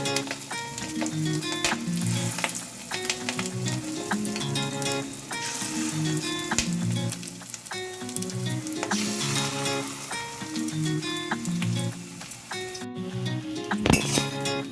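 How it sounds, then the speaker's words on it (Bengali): Fish roe fritters fry in hot oil in a wok with a steady sizzle, while occasional clinks of a utensil sound against the pan and background music plays throughout. "কড়াতে তেল বসিয়ে দিয়েছি অল্প অল্প করে দেব এইভাবে আমি ভেজে দিই সবগুলো"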